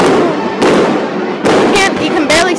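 Fireworks firing off in a display, heard as repeated dense bursts and crackling pops that swell and fade, loud and close, with excited voices reacting over them.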